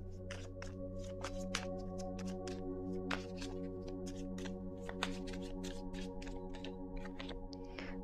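Tarot cards are shuffled and drawn by hand in a quiet room, a soft, rapid run of papery riffles and flicks over a faint steady hum, close but low in volume.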